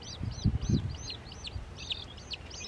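Baby chicks peep repeatedly in a steady run of thin, high chirps, close and fairly faint over soft rustling and low thumps.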